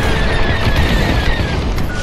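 Hangar blowing up in the Star Wars Squadrons space game, a loud sustained roar of explosions and crackling debris, dense and close, with no talking.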